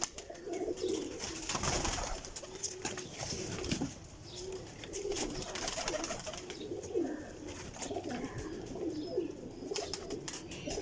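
Domestic flying pigeons coo steadily in a loft or coop, several birds overlapping in soft continuous rolling calls with occasional wing rustles, close and moderately loud, no talking.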